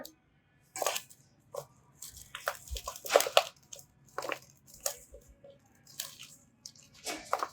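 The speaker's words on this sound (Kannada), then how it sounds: "ಈಗ ಇದನ್ನ ನೀಟಾಗಿ ಮಿಕ್ಸ್ ಮಾಡ್ಕೊಳ್ಳೋಣ" Mushroom kebab marinade with egg and half a lemon's juice being mixed by hand, heard as a string of irregular wet squelches and drippy squishes, close and fairly soft, with no voice.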